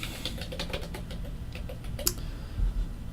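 Keys tapped in an irregular run of light clicks, close and fairly quiet, as a hostname is entered on a computer keyboard for a remote connection session, with one sharper click partway through.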